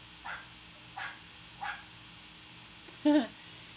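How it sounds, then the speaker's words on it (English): Three brief barks from a dog some distance away, evenly spaced, followed by a louder, closer yelp; quiet background hum between. "the neighbor's dogs are really loud"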